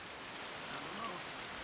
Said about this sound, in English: Why are you in this rain?